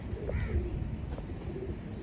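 An Imamdin bloodline breeder pigeon coos softly in short, low, repeated calls, faint under a steady rumbling background noise, with no voices heard.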